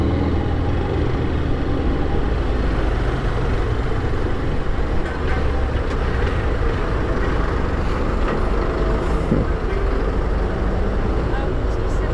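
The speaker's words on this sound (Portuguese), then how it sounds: "Olha o busão trancando a rua." A city bus rumbles in rush-hour street traffic, a dense steady roar of engines and road noise heard from inside a nearby vehicle, continuous throughout with no clear individual events.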